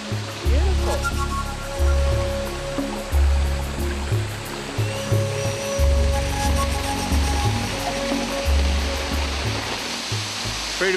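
Waterfall roaring steadily near a campsite, a loud continuous broadband rush with low rumbling pulses underneath, while faint voices come through now and then.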